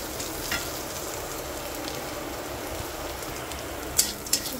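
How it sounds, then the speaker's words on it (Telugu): Bitter gourd frying in oil in a pan, a soft continuous sizzle with faint crackle throughout and a couple of sharper pops near the end. "అప్పుడు చక్కగా కాకరకాయ వేగినట్టు"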